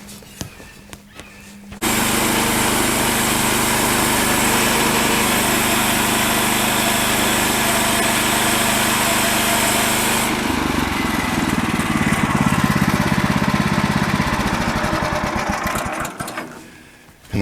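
A sawmill starts up and cuts through a knotty red cedar log: a loud, steady high-pitched engine and blade whine that holds for most of the cut, then shifts in tone as the saw slows and winds down.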